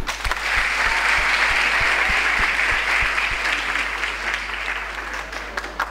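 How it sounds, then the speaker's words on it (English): A church congregation applauds visitors during a praise and worship service, sustained dense clapping from a large crowd holding steady for several seconds. "Shall we clap for them?"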